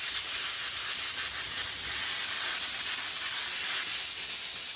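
Compressed air at 100 PSI hisses steadily from an air hose, a continuous bright rush that stays close and even throughout with no gaps.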